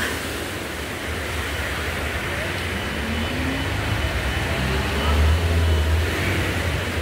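A car moves along a flooded street during heavy rain, its engine a steady low rumble with a faint swell of splashing water, the hiss of rain underneath throughout.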